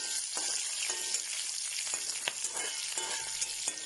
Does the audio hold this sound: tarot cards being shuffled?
no